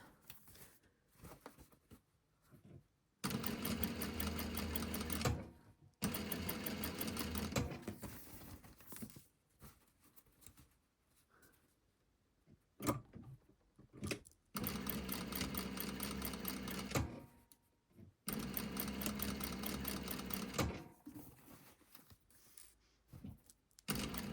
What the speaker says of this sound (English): just stitching right in that seam line and hopefully catching the fold on the other side